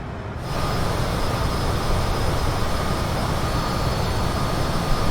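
Steady, dense roar of a Cessna Citation CJ4 business jet's engines in Microsoft Flight Simulator 2020, a constant broadband rush that swells in after a brief quieter start and holds unchanged.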